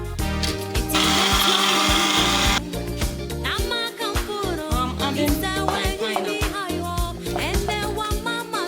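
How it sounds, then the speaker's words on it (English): An electric blender loudly whirs through sobolo drink ingredients in close, uneven bursts, its motor pitch rising and falling as the contents churn, with a brief steady high roar near the start. "I'm going to blend everything."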